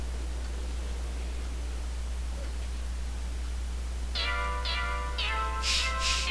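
Cat meows from the cat suit instrument in the Wii Music video game ring out in a quick run of four or five bright, tuned calls. They rise above a steady hum and hiss after a quiet opening.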